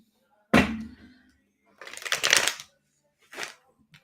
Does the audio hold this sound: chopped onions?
no